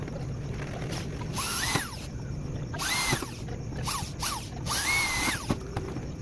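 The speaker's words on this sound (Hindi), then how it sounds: "इसके अंदर ड्रिल के साथ सुराख करेंगे" An electric drill bores mounting holes in a switch box, whining up in several short bursts with pauses between them, close and loud over a steady background hum.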